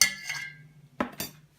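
A mixing bowl holding a sugar and egg mixture clinks sharply up close, one bright ring followed by two quick knocks in an otherwise quiet kitchen.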